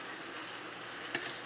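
Chicken cutlets for chicken Francese fry in a pan with a steady, soft sizzle, a brief louder crackle near the end as a piece is shifted.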